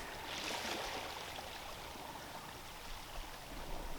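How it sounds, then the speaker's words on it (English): A stream of water flows outdoors in nature, a soft continuous rushing and trickling that stays steady and fairly faint throughout, with no voices. "isn't that water sound lovely? Do you hear it?"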